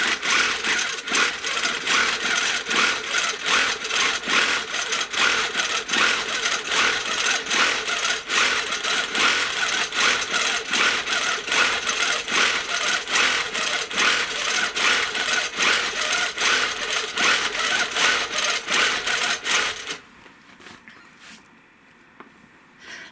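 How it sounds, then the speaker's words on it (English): A sewing machine runs steadily and loudly, stitching around a quilt border with contrasting thread in layered quilting, a continuous dense whirr for about twenty seconds that then cuts off to near quiet. "So I'm going to stitch around this because I don't make knots."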